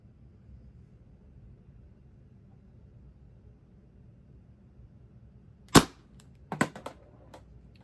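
A Pepperball TCP launcher fires a single sharp shot over a low rumbling background, followed a moment later by a cluster of quieter snapping impacts.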